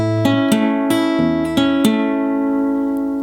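Short rockabilly fingerstyle guitar phrase. A handful of plucked notes and double stops ring out cleanly one after another, and the final note sustains and fades, with no talking.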